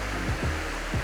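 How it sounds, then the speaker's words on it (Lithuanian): A small mountain waterfall beside a newly built trail and bridge runs as a steady broadband rush of falling water, close and continuous, with low rumbling swells and no voices. "nu, va, čia koks kriokliukas"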